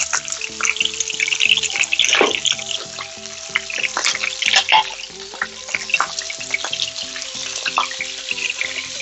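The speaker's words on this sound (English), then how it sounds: "I need to start browning all sides of my meat" Beef browns in a hot pan for a roast beef dinner, a continuous crackling sizzle with frequent clicks and scrapes of a utensil turning the meat, close and fairly loud, with no talking.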